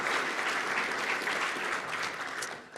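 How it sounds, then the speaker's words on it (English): Community-week audience applauding social services, a thick, continuous wash of clapping from a large crowd that holds steady and then eases off near the end. "big round of applause"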